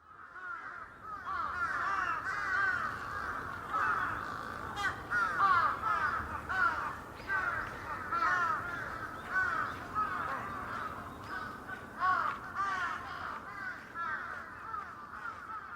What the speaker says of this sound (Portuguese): Acho difícil alguém vir para o Japão e não ouvir o grito dos corvos.